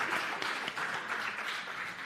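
Steady applause from a crowd, a dense wash of many hands clapping at once, continuous for the whole stretch.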